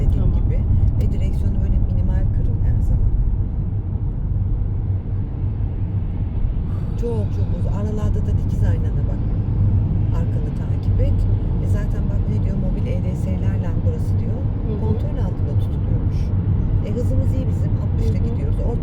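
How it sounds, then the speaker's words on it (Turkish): Dense, flowing motorway traffic on the Şile highway, heard from inside a moving car: a steady, loud low road rumble with occasional passing vehicles, while people talk over it throughout. "Mesela yoğun akıcı bir trafik var."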